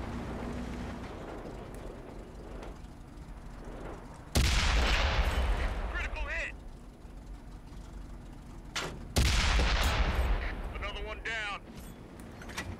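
Two heavy cannon blasts from a Type 64 light tank in World of Tanks, spaced several seconds apart, each a loud boom with a ringing tail over continuous engine rumble, with someone talking in between.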